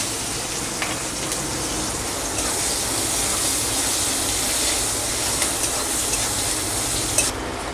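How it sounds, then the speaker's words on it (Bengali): Onions frying in hot oil with dried red chillies give a dense, steady sizzle that stays loud and even throughout, with no voices. "পেঁয়াজটাকে আমি ভেজে নেব।"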